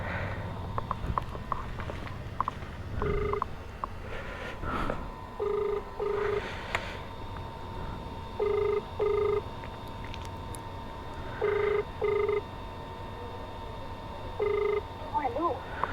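A phone call is placed: a few dialing clicks come first, then a ringback tone repeats in paired beeps about every three seconds over a quiet background.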